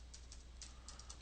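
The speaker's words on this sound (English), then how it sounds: "let's just start typing" Light, quiet typing on a computer keyboard: a handful of soft, irregular key clicks over a steady low hum.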